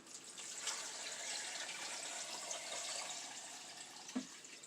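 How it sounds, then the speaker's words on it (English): Tap water runs into a 6-quart pot for chicken broth, a steady, fairly quiet rushing stream with a small knock near the end. "We're going to fill her with water."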